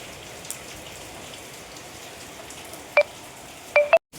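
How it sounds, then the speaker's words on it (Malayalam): A dense, even hiss of heavy rain falls steadily, with a few brief electronic beeps near the end. "ഭയങ്കര മഴയാണ് ഇന്നലെ രാത്രി തൊട്ടേ മഴയാണ്"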